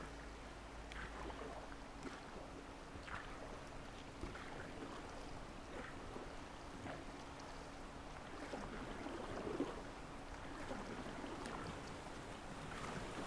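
Kayak paddling through calm water in the VR game Kayak VR: Mirage, set off Costa Rica: soft continuous splashes and lapping with faint wind, steady and quiet, no voices.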